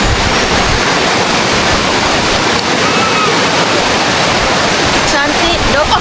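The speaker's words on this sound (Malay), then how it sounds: "air terjun yang tertinggi dekat Negeri Sembilan" Water pours loudly from Lata Kijang, the tallest waterfall near Negeri Sembilan, in a dense, constant roar close by, with faint voices under the rush toward the end.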